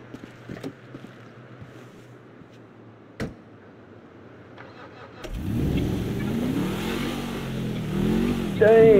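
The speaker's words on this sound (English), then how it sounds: "Listen to the engine, man." Quiet ambience with a few clicks, then a car engine in the video game GTA V suddenly roars to life and revs up and down loudly, rising to a higher whine near the end.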